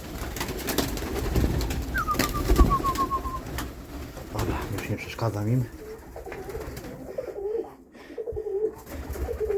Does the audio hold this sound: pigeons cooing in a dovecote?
yes